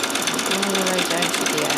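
A sewing machine whirs steadily while sewing a zigzag stitch on a peasant top, a close and continuous buzz with a faint voice underneath.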